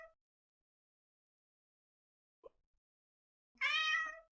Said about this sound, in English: Okay, so there's a cat here.